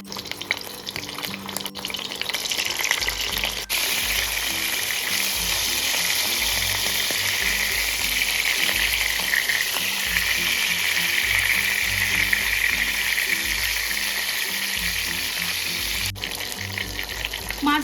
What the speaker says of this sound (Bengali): তেল ভীষণ ভালো করে গরম হয়ে গেছে এবার মাছগুলো আমি ভেজে নেবো